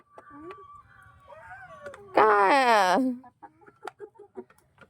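Backyard hens being fed rice cluck in short soft bursts, broken by one loud, drawn-out squawk close by.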